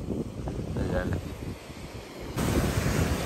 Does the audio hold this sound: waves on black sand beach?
yes